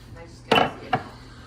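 Silverware and bowls in a cabin kitchen give two sharp clinks, one louder then a lighter one, over a quiet room hum.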